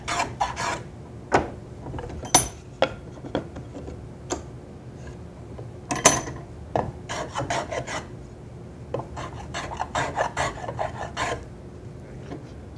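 A shoulder plane trims a wooden tenon in short, separate strokes: crisp, close shaving scrapes with clicks, irregular bursts spaced a second or so apart over quiet room tone.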